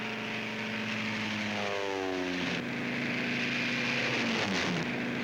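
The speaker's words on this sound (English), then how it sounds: "These are the first ships to take off in the airborne invasion of Fortress Europe." Propeller-driven pathfinder aircraft take off at the start of the airborne invasion of Normandy, a loud continuous engine drone whose pitch sweeps as the planes pass, heard alone without talk.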